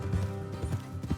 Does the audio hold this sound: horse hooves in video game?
yes